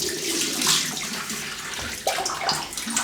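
Tap water runs into a bathroom sink as the face is wetted before a shave, a steady close splashing hiss with small sloshes and a sharper splash near the end.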